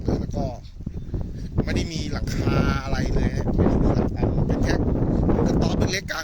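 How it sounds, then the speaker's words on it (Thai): Strong wind buffets the microphone on a small fishing boat moored out at sea off Bang Taboon, a loud continuous roar and rumble that swells and gusts throughout, with no talk over it. "ลมแรงมากนะครับลมแรงมาก"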